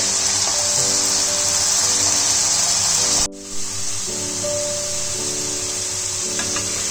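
Potatoes frying in hot oil for a jackfruit curry, giving a steady, loud sizzling hiss with a brief dip partway through and background hum.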